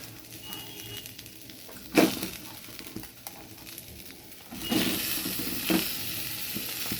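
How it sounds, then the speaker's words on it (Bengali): Ash gourd goes into mung dal that is frying and starting to burn in a pan, giving a sudden hissing burst and then a swell of sizzling as it is stirred, with quieter crackling in between. "এবার চাল কুমড়োটা দিয়ে দিই আগে, ডালটা পুড়ে যাচ্ছে, চাল কুমড়োটা তাড়াতাড়ি দিয়ে দেওয়া দরকার।"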